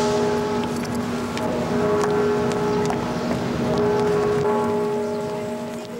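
Church bells ring steadily in the distance, their sustained tones layered over a low rumble of ambient city noise.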